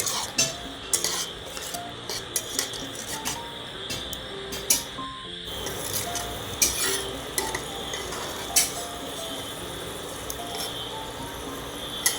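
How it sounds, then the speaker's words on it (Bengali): Peanuts fry in sizzling oil while a utensil repeatedly stirs, scraping and clinking against the pan in irregular strokes. "এই বাদামগুলোকে আমি ভালো করে ওই তেলের মধ্যে নেড়ে নেড়ে ভেজে নেব"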